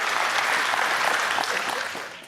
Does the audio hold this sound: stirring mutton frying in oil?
no